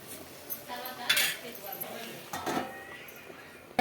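A lid goes onto a cooking pot of chicken and tomatoes, giving a few close metallic clatters and clinks spaced over a few seconds, with a louder clank at the very end.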